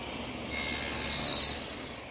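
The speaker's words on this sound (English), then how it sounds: "And I do it the same way on the table saw." A table saw cuts a miter in a molded wooden cabinet stile, a short whining hum that swells for about a second and then fades, fairly quiet and alone.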